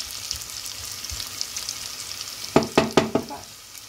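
Bacon and onion fry in a pan with a steady close sizzle, then a few sharp scraping stirs near the end, and no voices.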